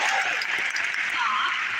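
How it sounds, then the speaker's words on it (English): A church congregation applauds, with steady, fairly loud clapping that fills the whole moment without a break. "Some applause for Anna."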